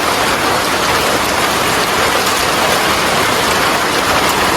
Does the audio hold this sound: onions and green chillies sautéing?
no